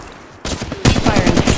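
Video game gunfire crackles in rapid automatic bursts, starting moderate, then jumping into a loud, sustained stream of shots.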